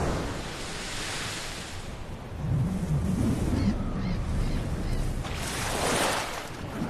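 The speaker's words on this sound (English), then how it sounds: "Waves, bigger than whales, bigger than ships." Large storm-driven ocean waves surge and roar in a broad, continuous wash, with swells building and falling and heavy wind-like noise throughout; no one speaks.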